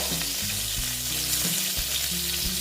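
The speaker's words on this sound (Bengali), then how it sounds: "মোটামুটি ভাজা হয়ে গেছে হ্যাঁ এবার আমি দেখো প্রায় লাল লাল হয়ে গেছে" Pointed gourd (potol) frying in oil produces a loud, continuous sizzle, with stirring scrapes from a spatula repeating through it.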